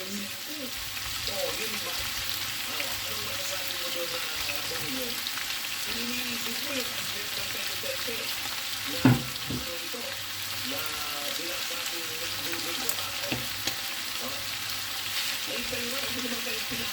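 Onion fries in a pan, a steady soft sizzle close by that carries on throughout, with a brief clatter partway through.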